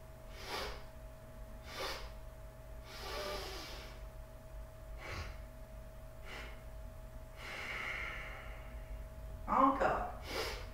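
During a yoga session, a person breathes deeply and exhales fully, producing several separate airy breaths spaced a second or two apart with a low steady hum underneath. The final breath is the sharpest.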